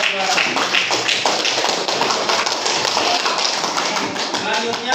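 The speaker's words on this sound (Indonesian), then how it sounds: "Kita tepuk tangan untuk juara-juara." A classroom of students clapping for the winners of a class activity, a dense, fairly steady patter of many hands held for several seconds.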